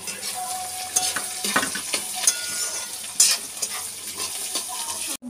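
Beetroot and onions frying in a pan for a beetroot coconut fry, a steady close sizzle broken by repeated spatula scrapes and clinks against the pan.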